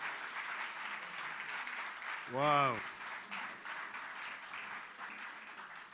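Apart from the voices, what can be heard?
applause for the President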